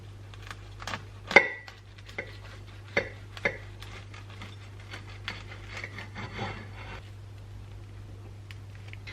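Knife cutting through a bagel with melted cheese inside, a series of close, faint scraping and crunching strokes with a couple of sharper knocks against a board, over a low steady hum.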